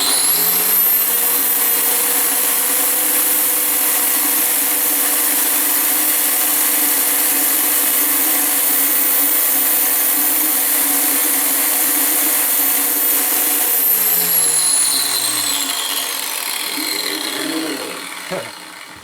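A Wandeli QX ZD-1200 tile cutter runs steadily with a loud, even motor whine and moving carriage, then winds down and shifts pitch near the end; no one speaks.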